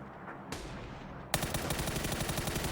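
Automatic weapon fire in PUBG on console, a quieter stretch giving way at mid-clip to a loud, sustained burst of rapid, evenly spaced shots that carries on to the end.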